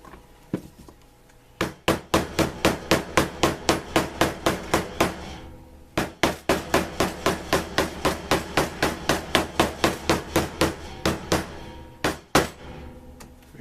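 A hammer pounds the glued edges of a lined leather holster in rapid, steady blows, two long runs of close, loud, evenly spaced strikes separated by a short pause, with no talk over them.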